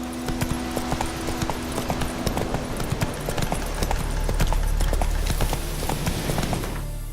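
Hooves of Roach, Geralt's horse in The Witcher 3: Wild Hunt, pound in a steady galloping rhythm, loud and close, over a low rumbling ambience with no talk.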